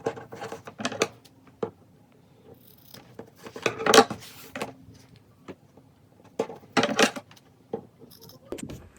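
Scissors snip through stretchy ribbon for pointe shoes, a scattered series of short crisp cuts and rustles at close range, quiet between snips, with no talking.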